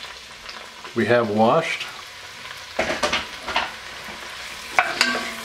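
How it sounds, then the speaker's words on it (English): Mushrooms and aromatics sauteing in oil over medium to medium-high heat, stirred in a pan, with scraping and sizzling that come and go under a person speaking. "And just saute this down until the mushrooms are soft."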